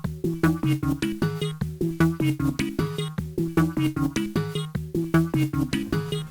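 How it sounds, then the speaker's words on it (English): A distorted Serum synth patch run through Cold Fire distortion and ShaperBox, playing a steady pulsing riff of rhythmic chopped notes with a bright, buzzy edge, loud and alone. "we added distortion cold fire, and then we added shaper box"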